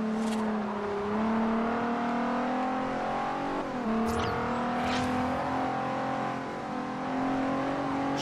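Nissan GT-R engine in the Forza Horizon racing game, a steady sustained drone that climbs and dips slightly with throttle, loud and close, with a brief high whine near the middle.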